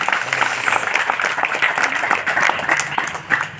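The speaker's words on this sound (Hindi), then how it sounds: "जोरदार तालियों से स्वागत है।" A gathering of people welcomes a guest with hearty applause, a dense, moderately loud burst of many hands clapping together with some crowd noise underneath.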